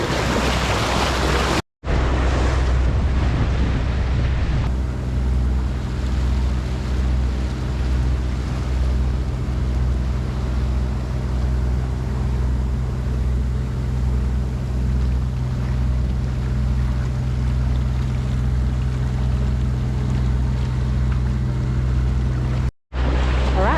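A sailboat motors at about six knots through waves and wind in the San Jose Channel, Gulf of California, with a steady engine drone under continuous rushing water and wind noise, loud and unbroken.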